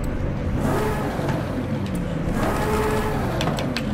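A Nissan Stagea RS with a twin-turbo engine revs in the Forza Horizon 5 racing game, a loud, dense mid-range engine drone with rising and falling pitch sweeps and turbo whir, continuous and close with no talk.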